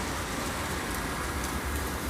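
Steady rain falling outdoors on a day of continuous downpour, a dense even hiss of drops on surfaces throughout with no speech.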